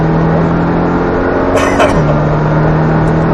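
A Porsche race car engine drones loudly and steadily as it accelerates out of a corner at Barber, heard from inside the cockpit with a constant roar and a brief shift in pitch midway.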